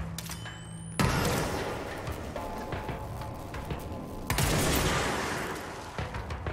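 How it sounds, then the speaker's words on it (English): Grenade blasts and gunfire in the video game Control: loud booming bursts at about one second and again near four seconds, with dense, sustained shooting and crackling debris in between. "Grenades."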